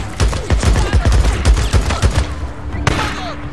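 A shotgun fires in the zombie-survival game Days Gone, with a rapid string of sharp, loud blasts and thumps over the first two and a half seconds and one final shot near the end.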